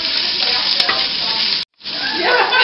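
Six cloves of very finely chopped garlic sautéing in a pan give a loud, close, continuous sizzle that cuts out briefly for a moment and then returns. Nobody speaks.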